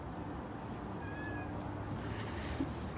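Stray cats gathered in a street in Madina give a faint, brief meow over a steady outdoor background hum, distant and low in level.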